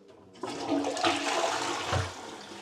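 A hotel room toilet flushes with a sudden rush of water that churns loudly and evenly, close by and alone in a small bathroom.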